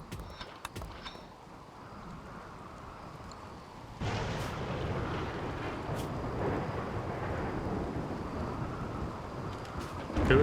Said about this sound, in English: And thunderstorm.